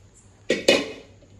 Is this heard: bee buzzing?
no